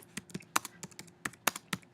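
Close, brisk typing on a computer keyboard, a quick irregular run of distinct key clicks with brief gaps, no voices over it.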